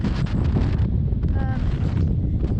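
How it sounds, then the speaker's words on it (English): Strong wind on a mountain summit buffets the microphone in a heavy, continuous roar with gusty surges, and a voice briefly sounds through it. "it's pretty windy up here"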